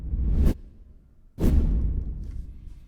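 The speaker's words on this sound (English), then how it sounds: "Then I have these like cinematic whooshes, just for like I'm turning, and before he shoots." Two cinematic whooshes for the Overwatch hero Hanzo, each a loud rushing swell that cuts off sharply, separated by a short lull with a faint tail after the second.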